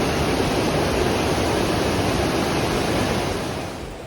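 Flooded Marian Creek after heavy rain, a loud, dense, continuous roar of rushing water that fills the whole clip alone and eases slightly at the end.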